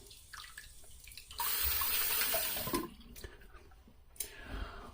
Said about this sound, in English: I'm gonna pause and rinse off